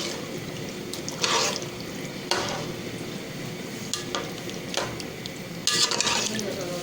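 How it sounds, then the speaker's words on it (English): An aloo tahari mixture of rice and potatoes bubbles in a pot, a soft steady simmer broken by several louder bursts of stirring and scraping, with a little quiet talk. "Now it started boiling."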